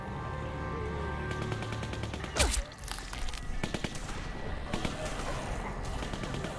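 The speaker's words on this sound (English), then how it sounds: "Who's shooting?" Gunfire in The Walking Dead video game crackles at a distance in scattered bursts of rapid shots, with one sharper, closer blast partway through, all over a steady background ambience.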